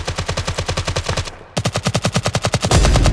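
Rapid machine-gun fire in the video game Six.A Raider, one long rhythmic burst, a brief pause, then another fast burst ending in a denser blast, loud and close with no talk.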